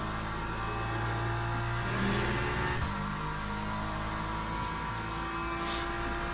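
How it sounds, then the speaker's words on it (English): A hypercar engine in the Le Mans Ultimate racing game hums and whirs steadily as cars pass, with layered engine tones and a brief swell near the middle, moderately loud and continuous. "Right, the lead hypercar coming through."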